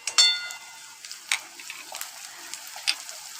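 Onion hits hot oil for a dhaba-style dal tadka, a light sizzle with scattered clicks of a spoon stirring in the pan, close and fairly quiet, no talking.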